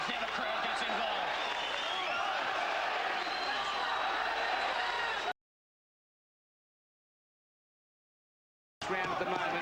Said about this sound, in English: Now the crowd gets involved